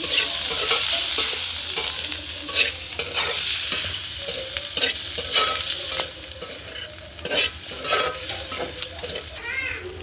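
Fish pieces frying in a pan over a village-style wood-fired stove for a fish curry, a dense hissing sizzle broken by repeated scraping and clinking of a spatula as they are stirred, near and steady, with no talk.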